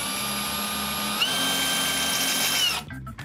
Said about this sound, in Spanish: Ustedes tienen que partir con una broca más chica. Por ejemplo, en este caso, una de 4.